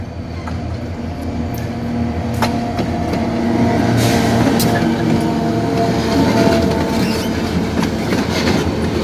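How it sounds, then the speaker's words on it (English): A train rumbles past on the tracks, a steady loud roar with scattered clicks and clanks from the wheels, continuous throughout. "Here's the train."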